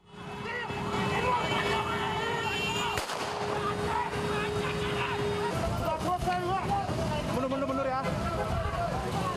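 Sharp bursts of police warning gunshots crack over a loud, chaotic street clash between online motorcycle taxi drivers and debt collectors, with shouting crowds and engine noise.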